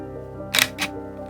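A Fujifilm X-T10 camera takes a single picture with its mechanical shutter, two crisp clicks in quick succession up close against a quiet background hum.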